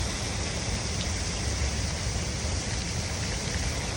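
A small waterfall in southern Chile gives a steady, broad rushing hiss of falling water, even and unbroken throughout with no voices.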